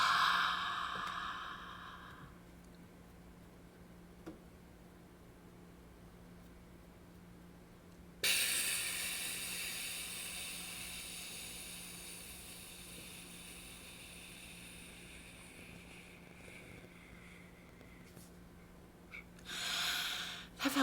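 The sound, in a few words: slow exhalation through pursed lips, breathing exercise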